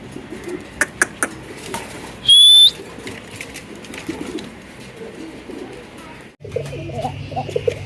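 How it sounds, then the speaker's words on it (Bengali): Fancy pigeons in a small cage coo in low repeated murmurs, with scattered clicks, rustling and a brief whistle, while someone talks quietly nearby. "এখানে আরো এক জোড়া কবুতর আছে"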